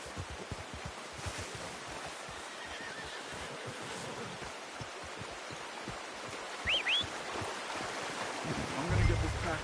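A horse in the video game Red Dead Redemption 2 gives a short whinny over a steady outdoor bed of flowing water and ambient noise, with a brief bird-like chirp partway through and no clear speech.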